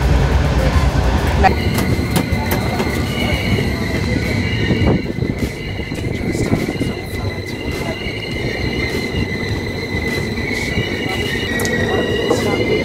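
The 12988 Ajmer Sealdah Express rumbles along the rails with a loud, continuous roar and high metallic wheel squeals, heard from inside a coach.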